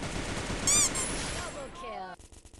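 Gunfire in the mobile battle royale game Free Fire: dense, continuous rattling shots that build to a loud burst, then fade into game effects, with faint voices mixed in.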